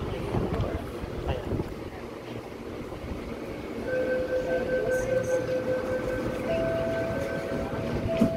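A Sydney Metro train at Chatswood station rumbles along with broadband noise and wind buffeting, then a sustained tonal whine rises as it moves, fairly close and steady throughout.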